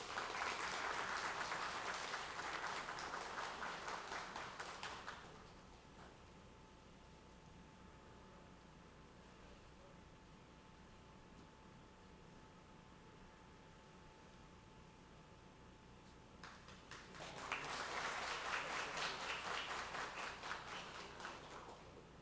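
A congregation applauds at a solemn ceremony marking the thirtieth anniversary of an Assembly of God church, a dense wash of clapping that fades to near silence with a faint hum, then swells again.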